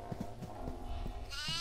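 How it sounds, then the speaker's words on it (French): A baby goat bleats in the horror video game Devour, set in a farmhouse. One short, wavering bleat rises at the end over a dark, rumbling ambient game background, with no talk. "Il y a une bébé chèvre."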